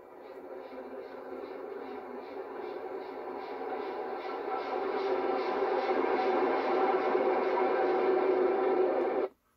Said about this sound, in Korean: 이때 이렇게 그 아래에 기차 소리가 나죠